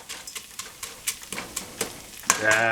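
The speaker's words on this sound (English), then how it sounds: "let it brown off, mix it around, make sure nothing's getting burnt" Ingredients for a rice dish brown in a frying pan while being stirred, bringing a series of scraping stir strokes over a light sizzle and then a louder burst of frying at the end.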